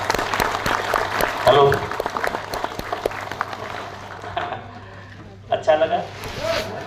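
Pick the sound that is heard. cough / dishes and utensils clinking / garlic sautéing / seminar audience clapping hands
seminar audience clapping hands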